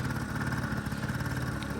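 A Honda Dio AF-34 scooter engine runs at a steady idle, with a continuous, even mechanical hum and no audible piston knock.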